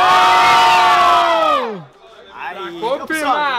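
A loud crowd at a rap battle final in Guarulhos, Brazil, erupts in cheering and shouting, with a sustained yell that tails off, then more whoops and scattered shouts rising again.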